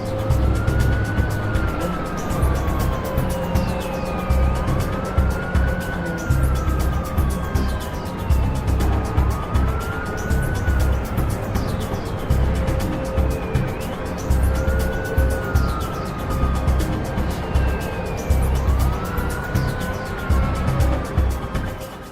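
Police car sirens wail in repeated rising and falling sweeps during a freeway car chase, loud and continuous over engine and road noise from cars speeding past.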